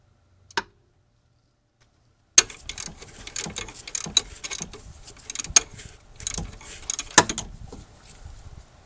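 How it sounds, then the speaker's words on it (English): A ratchet loosens a bolt on a 2004 Toyota Avalon alternator, one brief click and then a stretch of rapid metallic ratcheting clicks, close and uneven. "before we can loosen it, we've got to loosen up that bolt in the front here"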